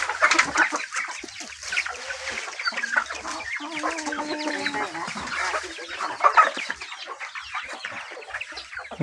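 Chickens cluck repeatedly at a backyard poultry spot where ducks are also kept, in a busy, fairly close chorus that runs throughout with some overlapping bird calls and no talking.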